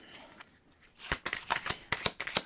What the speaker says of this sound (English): Let's get all of these cards out on the table.